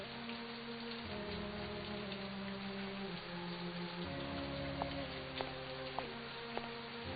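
Rain falling in the game And Then There Were None, a steady hiss of drops on surfaces under sustained, shifting musical tones, with a few sharp taps late on and no voices.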